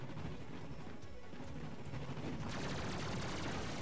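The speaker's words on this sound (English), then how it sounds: "I keep having to, like, fall back here and kill them with a turret" Turret gunfire rattles in a Ratchet and Clank game on PS4, dense and continuous rapid shots mixed with crashes and explosions filling the whole stretch.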